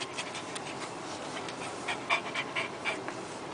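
A Labrador dog pants rapidly and excitedly inside a car, with close, breathy rhythmic puffs and a few faint whimpers near the end.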